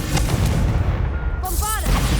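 A Confringo fire spell from Hogwarts Legacy bursts in a loud, dense booming blast that rolls on for about two seconds, with a brief rising whoosh near the end.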